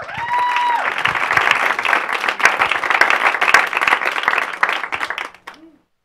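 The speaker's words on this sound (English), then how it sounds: "Let's have a round of applause for Andrea Nakayama." An audience at a functional medicine forum gives a lively round of applause for a speaker, full and steady for about five seconds before tapering quickly into silence.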